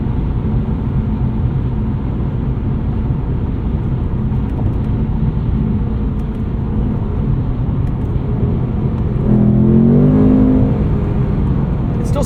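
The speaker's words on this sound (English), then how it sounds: "Here's exhaust in quiet." A 2024 Ford Mustang GT coupe with a 10-speed automatic, exhaust set to quiet mode, heard from inside the cabin as a steady subdued engine drone that swells briefly near the end as the car accelerates.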